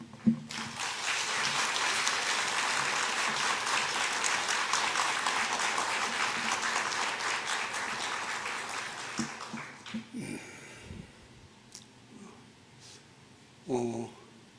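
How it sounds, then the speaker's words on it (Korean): Congregation clapping to welcome a missionary speaker at a Sunday church service, a long sustained round of applause that tapers off, followed by a few scattered sounds and brief movement noises. "우리 큰 박수로 격려하고 환영하는 박수로 맞겠습니다"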